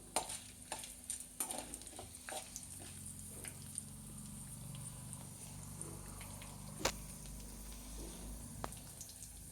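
Dried red chillies fry in hot oil with a soft, steady sizzle. Light stirring taps and scrapes sound close by, and there is no talking.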